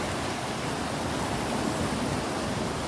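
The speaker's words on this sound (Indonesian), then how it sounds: "Ada aliran sungai juga." A river stream flowing beneath a long bridge over marshland on the Gunung Gede trail via Cibodas gives a steady, dense rushing wash throughout, close and fairly loud, with no talk.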